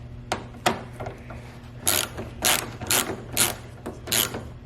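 Socket wrench ratcheting on a 10 mm bolt during radiator and fan shroud work on a Lexus SC300 with a 2JZ-GE engine: two sharp clicks, then several short bursts of close, loud ratcheting.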